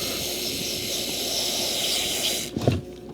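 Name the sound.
contact cleaner spray hissing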